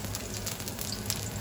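Chopped onion for a chilli frying in a pot, giving a steady soft sizzle and crackle throughout, faint and close.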